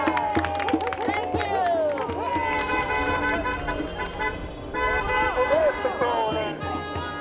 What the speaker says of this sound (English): clap your hands for the first time that's joining us